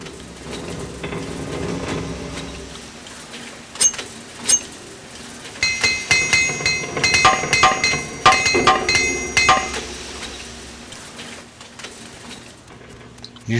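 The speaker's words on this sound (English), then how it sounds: "Used up a free hammer to get my stuff fixed." Repair hammer in the Morrowind video game clinks repeatedly, a string of bright metallic taps in an irregular rhythm over a low game background hum.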